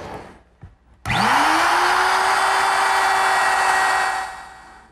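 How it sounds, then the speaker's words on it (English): A wood router with the same bit used earlier to trim wood veneer spins up after a couple of faint knocks, then holds a loud, steady high-pitched whine for about three seconds before easing off. "I'm using the same router bit that I trimmed the wood veneer with a little bit earlier."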